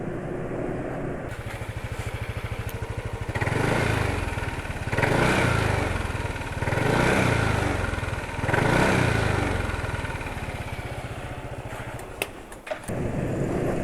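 A rough motorcycle engine runs steadily, with rhythmic swells as it is revved up and down several times, then settles back to idle.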